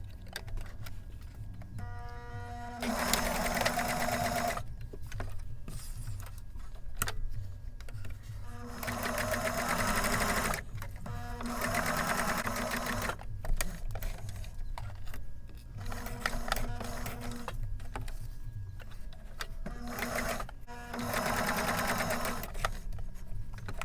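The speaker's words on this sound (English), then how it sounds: "So I'm going to get my machine up here and get to the sewing part." Domestic sewing machine stitching a small vintage baby bonnet from hand-dyed fabric, running in several bursts of rapid mechanical whirring separated by short pauses and faint handling clicks, close and moderately quiet.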